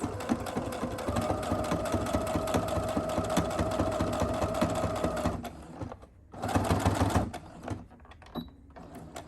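A sewing machine backstitches through several layers of a fabric mask, a steady close mechanical whir that runs continuously, cuts out briefly, then resumes in a shorter burst with a few faint clicks.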